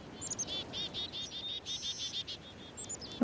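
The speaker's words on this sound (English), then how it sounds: "I love these bird sounds." Ambient bird calls in the Riven video game, a series of rapid high chirps and trills repeating in bursts over a soft insect-like background hum, fairly clear and near.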